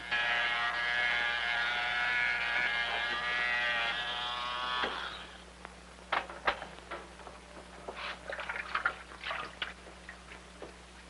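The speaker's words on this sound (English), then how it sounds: "My father's shaving." An electric razor buzzes steadily and fairly close for about five seconds, then cuts off and gives way to scattered light clicks and rustles.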